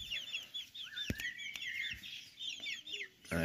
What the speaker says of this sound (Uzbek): Mana shu xo'rozimizni bolalari bo'ladi